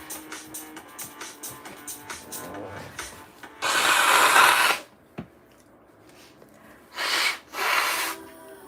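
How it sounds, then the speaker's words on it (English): A person blows their nose in two or three loud, noisy bursts, with a sharp tap in between and faint rhythmic background sounds before the blowing. "I gotta blow my nose"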